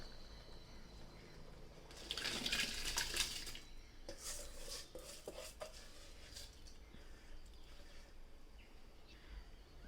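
Rice being stirred into mutton biryani in a pot, with scraping and clinking of a metal spoon against the vessel, soft wet shuffling, and a louder clatter early on, close by and without talk.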